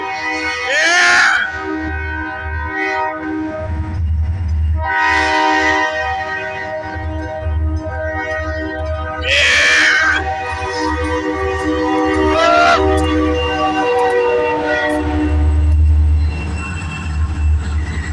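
A Buffalo and Pittsburgh freight train passes heading toward Punxsutawney, Pennsylvania, with a loud, steady rumble of rolling cars and squealing wheels under several long horn blasts, some brief voices faint beneath.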